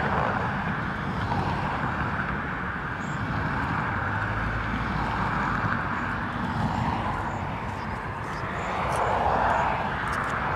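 A Ryanair airliner arriving from East Midlands at Dublin Airport gives a steady, distant jet engine roar that holds for several seconds, swelling slightly near the end, with wind noise over it.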